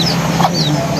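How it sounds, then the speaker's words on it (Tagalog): A chicken clucks close by, a short run of soft, throaty clucks with no talking. "Isa ko pang manok."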